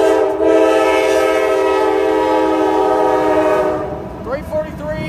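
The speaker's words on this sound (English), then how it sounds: "I caught a rare train. It's an Autorack." A train horn blares loudly and steadily for several seconds near a passing CSX autorack freight train in Woodbine, Maryland, then cuts off, leaving rumbling rail noise and faint voices.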